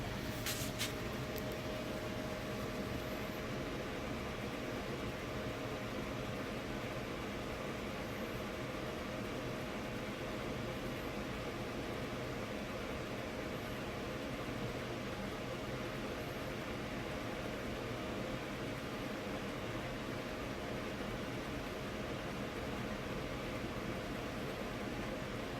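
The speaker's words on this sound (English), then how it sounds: "There goes the blower." A trailer furnace blower, on a unit that fails to ignite, runs with a faint, steady airy hum and rush that stays even for the whole stretch, with no talking.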